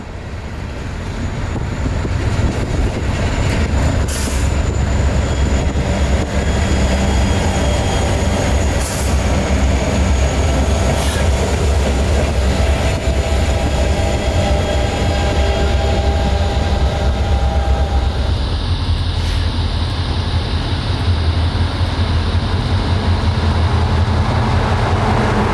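A freight train hauled by EMD diesel locomotives rolling through a siding near Plant City in Central Florida, a loud, continuous roar of wagons and wheels with occasional squeals, heard close throughout.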